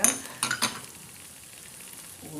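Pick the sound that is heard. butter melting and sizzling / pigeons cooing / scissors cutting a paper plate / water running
butter melting and sizzling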